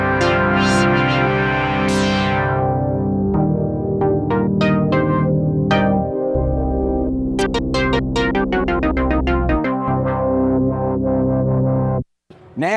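ASM Leviasynth synthesizer played with its analog-feel grit raised, sustained polyphonic chords with bright plucked notes on top, loud and continuous with no talking, cutting to a brief near-silence right at the end.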